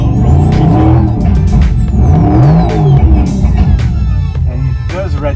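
An electric Mercedes-AMG GT63 accelerates with a rising synthetic whir and shifting engine-like tones, sweeping pitch up and down while people talk over it inside the car.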